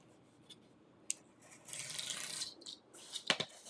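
Cutting through two stacked layers of corrugated cardboard, a faint scraping rasp that swells in the middle, followed by a few sharp snips near the end, quiet and close.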